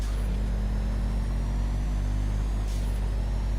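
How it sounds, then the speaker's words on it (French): Turbo-charged car engine on a tuned special vehicle such as a police car or taxi in a video game, a steady low engine drone with a faint high whistle running throughout, loud and continuous with no talking. "Vous entendez le bruit du turbo là? Le son que ça fait?"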